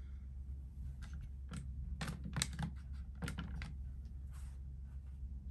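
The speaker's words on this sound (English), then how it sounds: "I guess there's a hold button on here. I heard it click." Buttons clicking on a Lennox air conditioner thermostat, a quick run of light, close plastic taps and clicks over a steady low hum.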